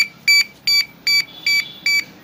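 A bicycle indicator kit's parking light sounds a sharp electronic beep, repeating six times in a quick even rhythm, close and loud with near silence between beeps.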